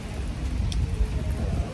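Steady rain falling on a New York street during a Memorial Weekend outing, a continuous close hiss of drops on pavement with a faint low rumble beneath and no talking.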